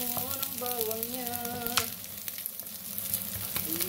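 Garlic and ginger sautéing in a pan for beef stew, a continuous close sizzle with light stirring scrapes, alone without talk.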